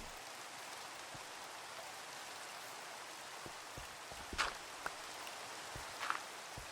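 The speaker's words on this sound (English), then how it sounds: "Oh, hello, rain." Soft, steady rain falls in a cozy farm-building game, a faint even hiss with a few scattered drop taps and two brighter splashes toward the end, quiet and continuous with no talking.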